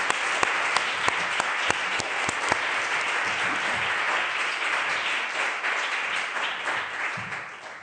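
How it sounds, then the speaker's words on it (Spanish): Audience applause for a speaker at a talk on Clarice Lispector: a few sharp, distinct claps open, then a sustained dense round of clapping that gradually fades toward the end. "Gracias, otro aplauso."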